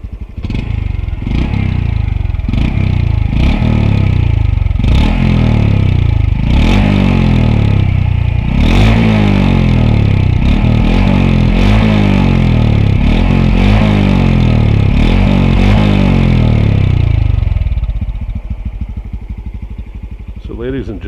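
A Honda CT125 motorcycle on its original exhaust revs repeatedly, loud and close, with regular throttle blips rising and falling for most of the run before the engine settles toward idle near the end.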